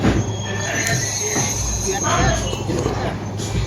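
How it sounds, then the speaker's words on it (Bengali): A railway track maintenance machine lifting rails in Russia gives a loud continuous mechanical rumble with metallic squeal, while someone talks over it. "এই মেশিনটা দেখছেন এই মেশিনটাতেই রেলটাকে উপরে তোলা তুলছে"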